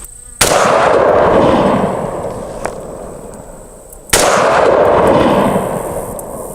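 Two loud suppressed shots from an AR pistol fitted with a KAK suppressor, fired at dirt clods about 25 yards away outdoors, each a sharp crack followed by a long decaying boom, spaced roughly four seconds apart.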